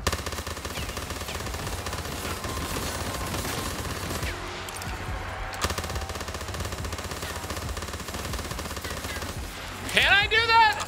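Rapid gunfire from a weak gun in Call of Duty Zombies, a steady dense stream of shots over a busy game soundscape, with a rising electronic whine near the end.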